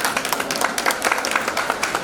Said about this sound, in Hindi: ताली बजा दो भैया।